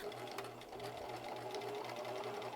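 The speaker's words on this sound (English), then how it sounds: "take a little stitch to make sure that everything stays inside the pocket" A sewing machine understitches a pocket seam on soft pants, giving a quiet, steady mechanical whir with a fast regular stitching pulse that carries on unbroken.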